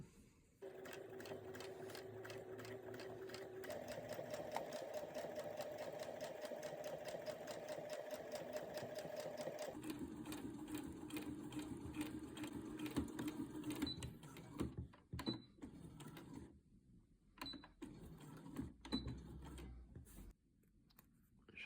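A sewing machine stitches a skirt seam in long, steady runs that shift speed and pitch partway through, then breaks into shorter stop-and-start bursts with faint clicks toward the end.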